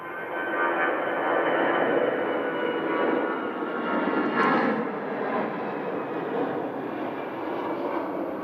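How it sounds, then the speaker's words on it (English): An Airbus Beluga Super Transporter cargo aircraft at Manchester Airport gives a steady, broad engine roar with no talk, holding fairly constant throughout with a slight swell near the middle. "Beluga Super Transporter."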